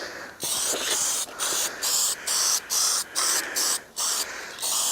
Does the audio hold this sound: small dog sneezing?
no